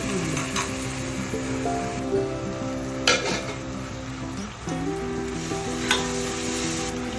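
A ginger, garlic, chili and coriander paste sizzles steadily in a hot pan while cooking mutton trotter soup, with a few utensil clinks and stirring scrapes. The sound is loud, close and continuous, and nobody talks.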